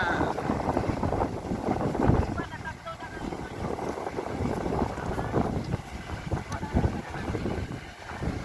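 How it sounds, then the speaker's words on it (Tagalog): Strong rushing wind from large electric fans buffets the microphone in uneven gusts, a constant blowing roar with faint voices underneath. "Malakas ang hangin, ang lalaki ng electric fan dito."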